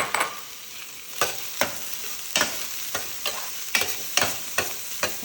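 Onions sauté in a pan for a stew-like vegan curry: a soft sizzle runs throughout while a spoon scrapes and stirs in sharp, regular strokes about every half second.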